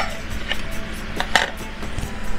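Ackee punch is stirred in a container, with light clinks and taps of a utensil against the sides in an uneven rhythm over a quiet background.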